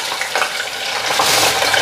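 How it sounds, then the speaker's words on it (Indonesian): Chicken pieces frying in a pan of hot oil for Indonesian ayam goreng, a steady close hiss and crackle with small surges, no talk. "Saya mau bikin ayam goreng 1-2 buat Koko."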